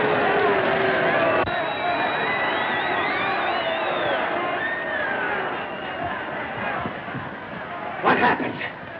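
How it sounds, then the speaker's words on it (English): Boxing crowd roaring and cheering at a ring for a new fighter, a dense continuous wall of voices and whistles, with a louder burst of shouting near the end. "Why is that crowd a-frothin' and a-fronin'? I'll tell you, they're hailing a new sensation of the squared circle."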